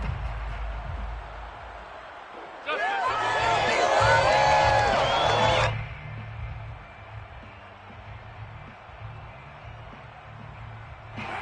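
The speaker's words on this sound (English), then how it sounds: "And that might be exactly what they needed to wake up this home crowd." A home crowd at a football game erupts into loud cheering and whooping that swells suddenly, holds for about three seconds, then falls back to a low background murmur.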